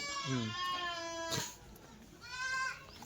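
Young Kathiawadi goat kids bleat in several high, wavering calls, one long cry followed by another after a short pause, loud and close.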